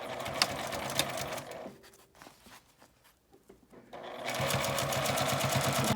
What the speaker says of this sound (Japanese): 端に合わせてミシンで縫います。